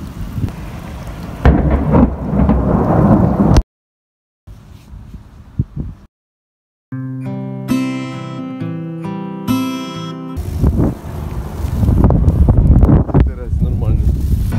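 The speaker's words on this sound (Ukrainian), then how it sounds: "Дощ." Rain and a thunderstorm roar as loud, windy, rumbling noise at the start and end, broken by silent gaps and a stretch of music in the middle.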